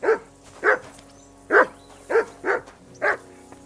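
Six loud, close barks from a dog in Kingdom Come: Deliverance II, coming in an uneven rhythm with short gaps between them over a quiet ambient background.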